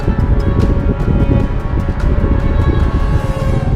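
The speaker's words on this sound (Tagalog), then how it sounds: "Tinutulak ako ng hangin." Strong wind on Sapinit Bridge buffets the microphone with a loud, continuous low rumble and roar, unbroken throughout.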